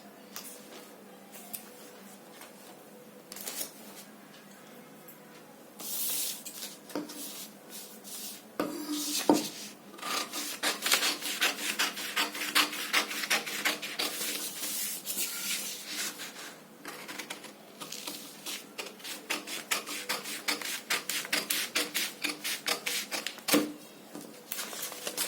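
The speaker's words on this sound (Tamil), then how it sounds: "இப்போ நம்ம கட் பண்ணி எடுத்துடலாம்" Scissors cutting fabric for a three-quarter sleeve, a long run of close, crisp snipping and rustling strokes that starts sparse and becomes a dense, steady rhythm.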